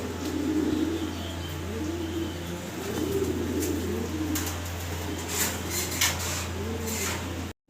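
A pair of Roman pigeons coo softly in low, repeated murmurs over a steady background hum, with a few faint clicks and chirps near the end.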